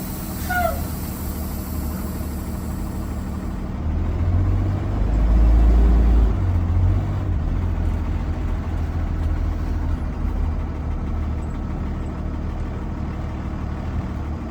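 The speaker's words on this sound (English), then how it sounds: "I will release the parking brake and drive forward to 5 miles per hour." A passenger bus rolls forward slowly at about 5 mph during an air brake test, its diesel engine a steady low rumble that swells briefly as it pulls away, then settles into a smooth close drone.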